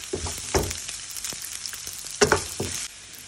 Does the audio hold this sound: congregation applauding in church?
no